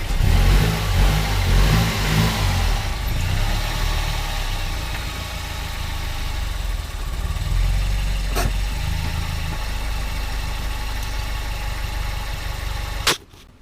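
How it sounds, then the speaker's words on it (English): A Mazdaspeed 3's engine idles and pulls the car slowly up onto ramps, a close, steady low rumble with brief revs that ends in a sharp knock. "So we'll drive the car up on ramps so we can get the jack under completely."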